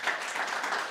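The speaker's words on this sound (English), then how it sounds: "Please clap for him." Students in a classroom clapping, a brief burst of scattered hand claps lasting under a second, fairly close and even.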